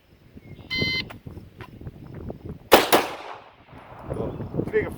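A Sig 365 XL pistol drawn from an appendix holster fires a single loud, sharp shot near the middle, with a decaying echo trailing behind it amid faint background rustling.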